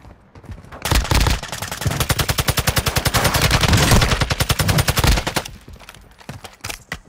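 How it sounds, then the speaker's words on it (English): Video game firefight with a rocket launcher explosion: a loud, dense burst of rapid gunfire and blasts builds for several seconds and then cuts off into quieter background. "He killed me with a rocket launcher, bro."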